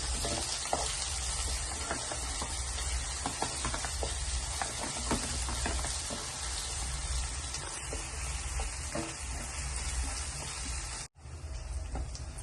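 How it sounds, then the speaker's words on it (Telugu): Ginger garlic paste frying in a pan with onions, a steady close sizzle running throughout with faint scraping clicks, then a brief drop near the end. "అల్లం వెల్లుల్లి పేస్ట్ ఒక స్పూన్ వేసి పచ్చి వాసన పోయేంత వరకు వేయించుకొని"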